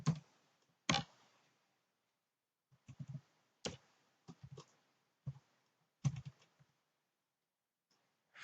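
Someone types code on a computer keyboard in scattered bursts of crisp clicks separated by silent gaps, close and fairly quiet.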